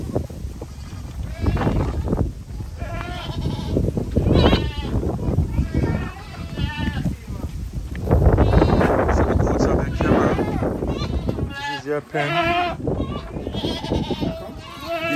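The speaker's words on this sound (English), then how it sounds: "These are rich goats." Goats crowd a pen, bleating loudly and often at close range in overlapping calls, while people talk over them and wind buffets the microphone.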